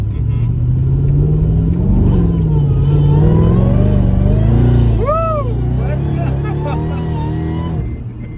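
Mercedes E55 AMG engine pulling hard as the car accelerates on a wet road, a loud steady drone rising through the gears with a brief high whistle midway, while people talk over it inside the car.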